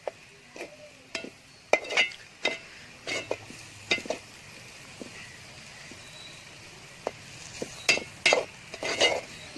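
Raw prawns stirred with salt, chili powder and turmeric in a pan, heard as irregular close scrapes, taps and light clinks of a spoon against the vessel, with no talking.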